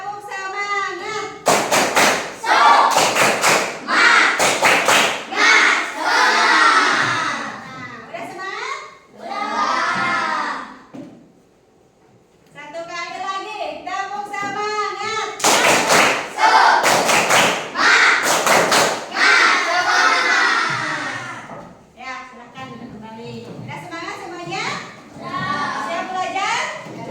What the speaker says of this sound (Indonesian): Ibu punya tepuk semangat